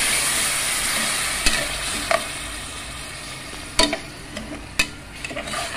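A pan of spices scented with asafoetida keeps sizzling softly after a little water is added, with sharp scraping and clinking stirs breaking through the hiss at irregular intervals.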